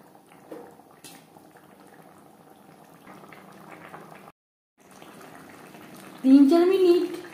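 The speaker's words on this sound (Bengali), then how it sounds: "তিন 4 মিনিট গ্রেভি বেশ ভালো করে ফুটিয়ে নেওয়ার পর" Tuna fish curry gravy bubbling in a pan, a soft steady simmer with faint background speech, briefly dropping out before a loud, close burst of vigorous boiling at the end.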